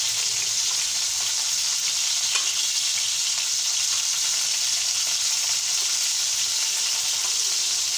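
Raw minced-meat gola kebabs fry in a pan over low heat, giving a steady, loud, close sizzle that runs unbroken throughout, with occasional faint stirring and no talk.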